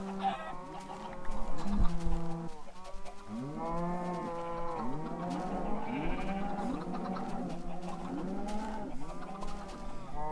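Chickens in a video-game cow field cluck repeatedly in quick, overlapping runs of rising and falling calls, moderately close and continuous, with no talking.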